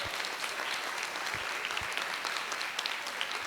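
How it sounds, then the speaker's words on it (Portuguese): Steady audience applause at a university mock-trial event, dense hand clapping filling the room at a fairly distant, even level with no talk over it. "Uma salva de palmas a todos os envolvidos."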